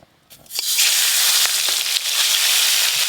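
Koi fish frying in hot oil in a home kitchen, a loud, steady, dense sizzle that builds up quickly after a quiet start and then holds, broken by a few sharp crackles and spits.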